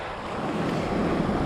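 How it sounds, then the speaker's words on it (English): Small sea waves wash around an inflatable kayak in a steady, close wash of surf mixed with wind rumble on the microphone, with no voices. "Small waves."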